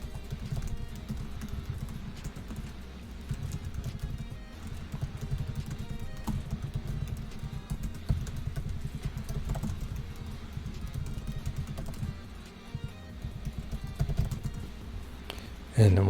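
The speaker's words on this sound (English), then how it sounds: "Gotta warm up my typing fingers before I start streaming." A computer keyboard clicks in a fast, continuous typing patter at a programming livestream desk, close and steady, with a low background hum and faint voice underneath.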